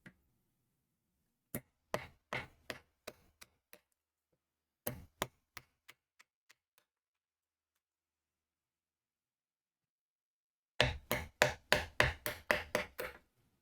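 A hand chisel cuts into a Japanese woodblock, giving sharp, dry taps in short bursts separated by silence, quiet and close.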